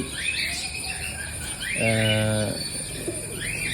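A pigeon nesting with its eggs on a metal wire gives a single soft coo midway, against a steady background of insects and distant bird chirps.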